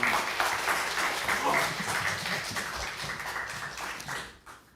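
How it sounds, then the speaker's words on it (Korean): A church congregation applauds at a Sunday worship service, a broad steady wash of clapping that holds for a few seconds and then fades out. "큰 박수로 환영하겠습니다"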